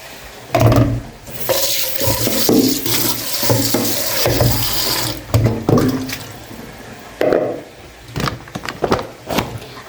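Water runs from a tap into a blue bowl in a Kenyan home kitchen, a steady splashing stream with clattering handling sounds and brief bursts as the flow starts and stops, close and fairly loud.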